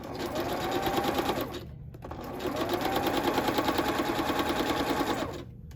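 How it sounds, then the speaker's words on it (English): Sewing machine stitching down the sides of fabric, running steadily in two long bursts of rapid mechanical chatter with a short stop between them, close and loud with no talk. "You can just sew the sides."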